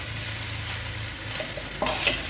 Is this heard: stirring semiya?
yes